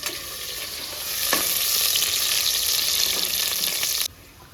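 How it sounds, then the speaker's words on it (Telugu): Green chilies and curry leaves fry in hot oil with a steady, close crackling sizzle that swells after the first second and cuts off sharply near the end, with a stir or knock partway through. "ఒక 2 పచ్చిమిర్చి, కరివేపాకు, ఇవన్నీ బాగా ఫ్రై చేసుకుందాం"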